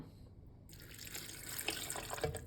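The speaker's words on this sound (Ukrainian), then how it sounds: "і заливаємо водою" Water pouring onto hazelnuts in a blender, starting after a brief quiet moment and building into a steady, splashing stream that grows slightly louder.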